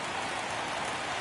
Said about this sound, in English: In the rain, the brims of the hat, very big.